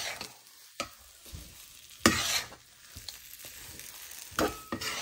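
A thick, dough-like mixture is stirred in a wok, with a few scraping strokes and clunks of the spoon against the pan between quieter pauses, close and moderately loud.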